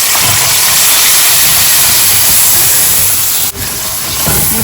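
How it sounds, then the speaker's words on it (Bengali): Loud, steady hiss of dal and tomato with ginger being tempered in hot mustard oil in a wok, a dense sizzle running throughout with a brief dip near the end. "সেম কড়াইতেই আমি একটুখানি সর্ষের তেলে ডালটা ফোড়ন দেবো"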